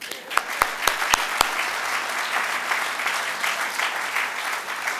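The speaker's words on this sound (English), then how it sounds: "So first of all, round of applause on that." Audience applause at a university research building groundbreaking, opening with a few distinct, close single claps that swell into steady sustained clapping from a crowd.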